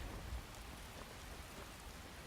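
Steady rain falls in the Skyrim video game, a continuous, even downpour with a soft wash of drops, holding at a constant level throughout and with no voices.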